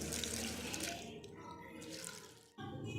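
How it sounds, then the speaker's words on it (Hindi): Water pours steadily into a cooking pot of sarson ka saag, a loud, continuous close splashing that briefly eases and then resumes. "और अब इसमें 2 कप पानी डाल दूंगी"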